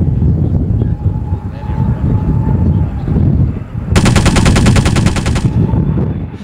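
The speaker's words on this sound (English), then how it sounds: "Suddenly, the Japanese fire on the Boomerang, giving away their positions." Simulated gunfire at a WW2 Pacific airshow display: a rapid machine-gun burst of about a second and a half rattles out over a loud outdoor rumble of wind and distant engines.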